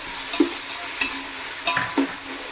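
Onion with ginger-garlic paste frying in a pan for chicken biryani, a soft steady sizzle broken by a few brief scraping stirs, close by and fairly quiet with no talking.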